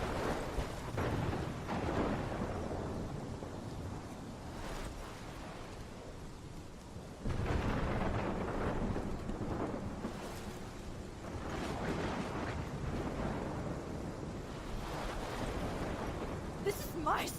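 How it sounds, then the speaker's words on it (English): A thunderstorm in the video game Life is Strange rumbles as steady, dense roaring rain and thunder that swells loudly partway through and stays heavy to the end. "This is my storm."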